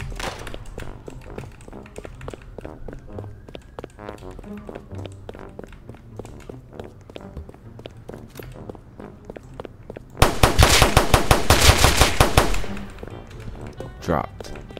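Gunshots ring out in the Roblox game Street Life, set on NYC-style streets. A rapid, loud burst of about seven shots lands near the end over steady game background noise and occasional talk.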